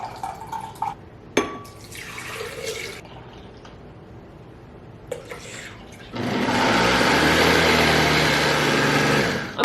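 One cup each of almond milk and coconut water is poured and then mixed for a roasted beet smoothie. Brief splashes and clinks come first, followed by a loud, steady whirring rush for the last few seconds.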